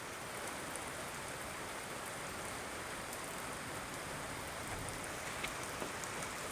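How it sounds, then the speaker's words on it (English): Faint, steady rain falls as a soft, even hiss, with a couple of tiny drips standing out near the end. "You can see the rain falling down in the light out there."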